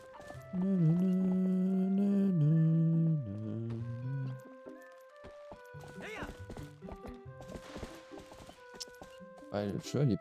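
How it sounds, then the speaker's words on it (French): Horse hooves clip-clop in the video game Zelda Twilight Princess, mixed under steady game music and sound effects, fairly loud and continuous. "Ouais, le cheval il est pas très maniable."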